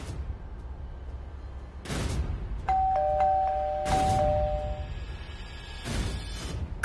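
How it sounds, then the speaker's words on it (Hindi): A doorbell chimes a couple of ringing tones in the middle, surrounded by several dull heavy thumps before and after, like knocking. "कब से डोरबेल बजा था"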